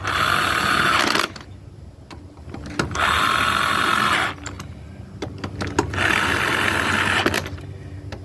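A cordless drill with a dying battery whirs in three bursts of a second or two each while swapping zero-turn mower tires, separated by pauses with faint clicks and handling noises.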